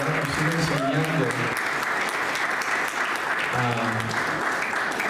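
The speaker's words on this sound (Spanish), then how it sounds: "Denle un aplauso al Señor." A church congregation applauds the Lord at the close of a sermon, a full, continuous roar of clapping with a voice and some singing-like tones rising underneath in bursts.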